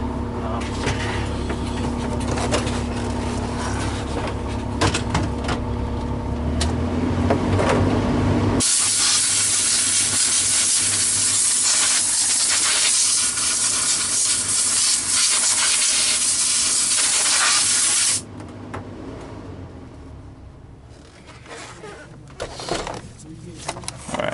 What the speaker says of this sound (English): So I'm going to take compressed air and I'm going to blow this out.